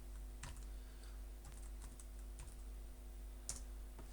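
Keystrokes on a computer keyboard while entering an R command, a few sparse clicks in small bursts over a steady low hum, close and fairly quiet, with no one talking.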